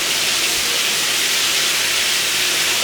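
Chicken pieces deep frying in oil heated to 240 degrees, a steady, loud, dense hiss of bubbling and spattering that holds evenly from start to finish with no talking.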